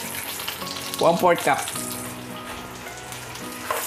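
Annatto seeds frying in rendered chicken fat oil, a steady close sizzle with a brief spoken phrase partway through.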